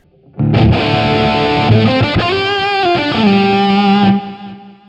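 Distorted electric guitar through a Brit JTM 45 style amp into a 4x12 cabinet with Greenback speakers, miked with a 421 dynamic, plays a loud sustained chord phrase of about four seconds with shifting notes before stopping.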